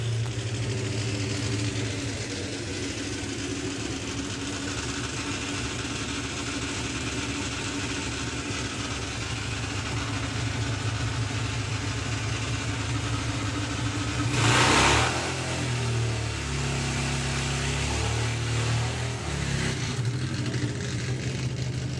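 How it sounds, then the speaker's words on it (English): A drag racing bike engine at an FIA European Drag Bike Championship event idles with a steady low rumble, then its throttle is cracked open in a brief sharp rev before settling back to idle. "That first magic crack of the throttle after building it."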